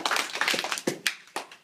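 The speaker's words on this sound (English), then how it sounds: "Give Logan 2 claps" An audience at a leadership lesson claps in a short, ragged burst of scattered hand claps, a handful of sharp slaps spread over about a second and a half.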